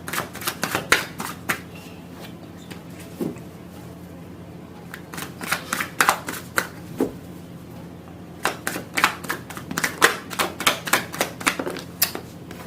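Tarot cards being shuffled by hand, close up, in quick bursts of crisp snapping riffles and flicks separated by short pauses, with no voices.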